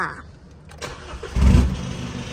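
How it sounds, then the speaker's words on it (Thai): A car engine cranks and catches, rising into a low, rumbling idle nearby. "เดี๋ยวเราไปสตาร์ทเครื่องกันก่อน"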